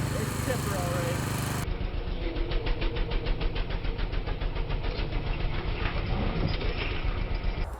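A log splitter's small engine runs steadily outdoors with a rapid, even chug, loud and close throughout, without pause.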